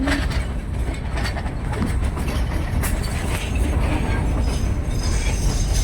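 On the century-old railway toward Taunggyi in Myanmar's Shan hills, a Shan train's carriages roll with a steady, loud rumble and rhythmic clickety-clack, with occasional faint wheel squeal.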